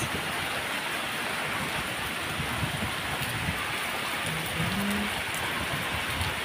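Heavy rain with strong wind pours down in a dense, constant roar, loud and unbroken throughout.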